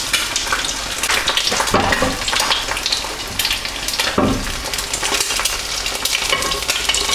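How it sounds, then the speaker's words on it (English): Hot fat spooned over a frying egg's yolk for a full English breakfast, a steady close sizzle and crackle with brief scraping spoon sounds. "use a tablespoon and just pour that fat over the top of the egg just to seal the yolk."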